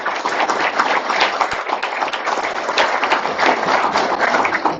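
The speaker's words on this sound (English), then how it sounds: "Let's get started with a round of applause for all of the kids here tonight." Audience applause for children at a school board meeting, a steady, dense patter of many hands clapping throughout, fairly loud and close.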